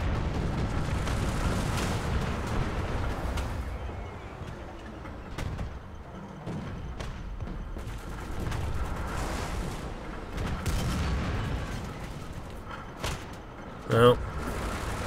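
Artillery strike in the tank game War Thunder, with a British AEC Mk.II armored car on the battlefield: dull, scattered booms over a steady engine rumble, ending with a sharper blast near the close.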